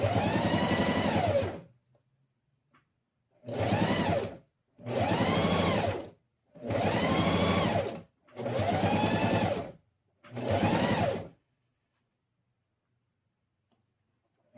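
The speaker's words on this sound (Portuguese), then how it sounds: "A minha máquina desloca a agulha da esquerda para a direita." A domestic sewing machine, needle moving side to side, runs in six bursts of rapid stitching, each lasting one to two seconds and separated by short silent pauses, loud and close.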